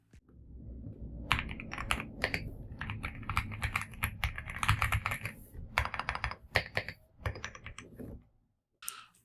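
Fast, continuous typing on a Rapoo V700 mechanical keyboard: dense bursts of close, crisp key clicks in uneven rhythm, with short pauses, and no voices.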